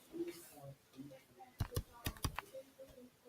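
A handful of sharp plastic key presses on a calculator, close and crisp, come in a short irregular run amid quiet speech in a classroom setting.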